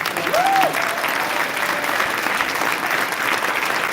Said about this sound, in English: can we give one more round of applause to the students?